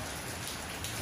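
Heavy rain pours down in a dense, continuous hiss, loud and close, with no voices.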